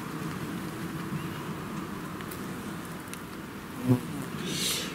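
A fly buzzes in a vegetable garden beside purple beans under a tarp, a thin continuous hum close by with a brief louder pass near the end, over quiet outdoor background.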